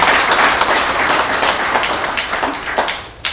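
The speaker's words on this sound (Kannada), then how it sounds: "ಒಂದು ದೊಡ್ಡ ಚಪ್ಪಾಳೆ ಮೂಲಕ" Applause from a rally audience approving a public resolution, a dense wash of many hands clapping loudly and close, steady throughout before thinning slightly at the end.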